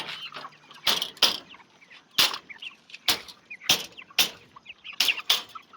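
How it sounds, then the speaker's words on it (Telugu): Chickens clucking and shifting about close by, with a series of short bursts and scratchy rustles repeating every second or so over quiet farmyard background. "అగో మెసులుతా ఉన్నాయి కోళ్ళు."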